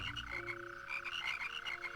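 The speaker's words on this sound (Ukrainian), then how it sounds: "О, жаби" Frogs croak in a Madagascar video game, a dense chorus of repeated pulsing calls layered over steady tonal game ambience, fairly loud and continuous with no talking.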